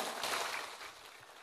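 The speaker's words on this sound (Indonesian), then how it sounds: "tepuk tangan dulu dong" Applause from the audience at an Islamic religious sermon gathering in Purworejo, a dense steady wash of many hands clapping that carries through briefly at moderate level without voices.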